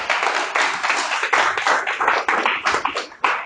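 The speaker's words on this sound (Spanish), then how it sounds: "¿Cuánto le dan un aplauso a Dios por eso?" A church congregation claps close and loud, a dense run of individual hand claps with a loose rhythm throughout.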